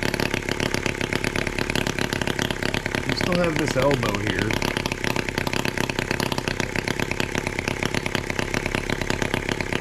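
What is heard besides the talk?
hot bulb mill engine running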